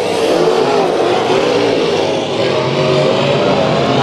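Modified race cars roar around the oval at Bakersfield Speedway during a heat race, a loud, continuous engine howl close by with wavering revs as cars pass.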